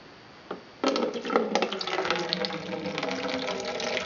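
Water pours into a glass in one continuous, close-up stream. It starts with a sudden splash and then runs steadily to the end.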